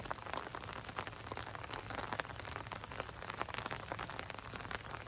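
Light rain falls steadily on a hillside pasture along the Appalachian Trail, a soft, even patter of drops with no voices.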